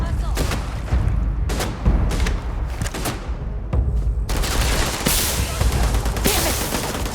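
Gunfire rattles in a Starfield firefight, with repeated loud shots and rapid bursts cracking close by in an ongoing fusillade and a voice shouting at moments.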